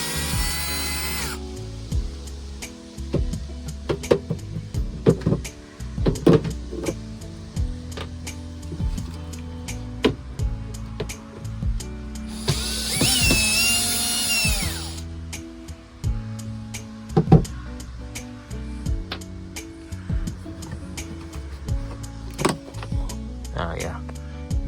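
A power drill backs screws out of a car body panel during rust repair, giving short whirring bursts with one longer, louder spin near the middle, amid clicks and handling noise while a person talks.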